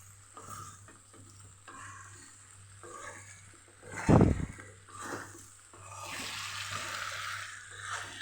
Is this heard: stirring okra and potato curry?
yes